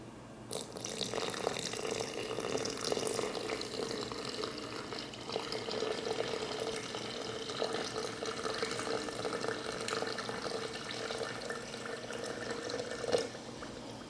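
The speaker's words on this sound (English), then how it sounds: "Now add some warm water." Warm water pours steadily onto clay to make slip, a continuous close liquid rush lasting throughout with a slight splash near the end.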